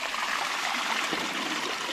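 Water flows in a stream in Palawan, a continuous bright rushing trickle heard close and steady throughout, with no voices.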